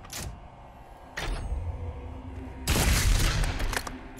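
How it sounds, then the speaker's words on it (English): Gunfire in the video game Doom Eternal: three heavy, booming blasts, the first two short and separated by about a second, the last a longer roaring burst that rings on, loud and close with no talk. "Oh, I'm definitely shooting this guy."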